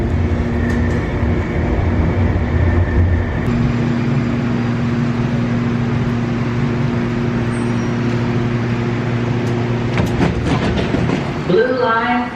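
Light rail train on Portland's blue line inside the underground Washington Park Zoo tunnel. A loud, steady mechanical hum with sustained tones fills the tunnel, ending in a burst of clattering rail noise.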